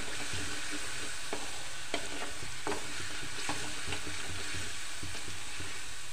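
Garlic fries in hot oil for tomato pickle, giving a dense continuous sizzle punctuated by irregular clinks and scrapes of stirring, close and steady throughout with no voices.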